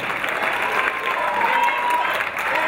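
Audience applauding a singer and tenor after a waltz performance, sustained loud clapping from a crowd at a constant level, with faint voices mixed in.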